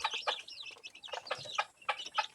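Layer hens clucking in short, uneven bursts, several birds overlapping in quick choppy calls, fairly faint and close with gaps between phrases and no talking.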